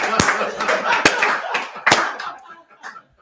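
Someone gives a slow clap, three or four sharp, spaced hand claps close to the microphone, mixed with laughter and chatter around them.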